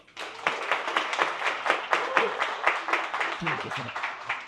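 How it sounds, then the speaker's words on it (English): A small audience claps for the panelists at a design-community business panel, a moderate, fairly quiet patter of individual claps with some voices mixed in. "Can we give them a round of applause?"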